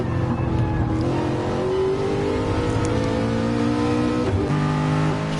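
A race car engine in a PS4 racing game drones loudly through a chicane in second or first gear. The pitch holds steady, then dips and climbs again as the revs shift, with no talk over it.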